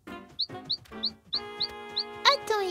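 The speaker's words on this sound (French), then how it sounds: "Bonjour l'oiseau." A cartoon bird gives short, repeated high chirps, bright and close, over a bed of musical tones that swell toward a brighter chime at the end.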